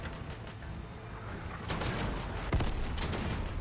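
Video game weapon firing, a few quiet distant-sounding gunshot bursts over a steady low background rumble, one sharper crack near the middle.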